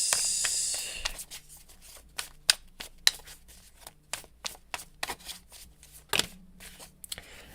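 Tarot cards shuffled by hand in a quiet room, a brisk riffle at the start followed by a string of soft, irregular slaps and flicks as the deck is cut and handled, close and fairly faint.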